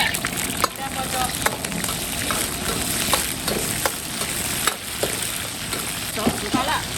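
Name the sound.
stir-frying scallion, ginger, garlic and dried Sichuan pepper in oil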